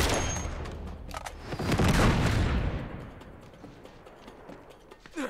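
Rocket launcher fire in Uncharted 3 thunders in heavy, crackling blasts and rumbling booms, peaking midway before tapering off, with scattered sharp impacts following.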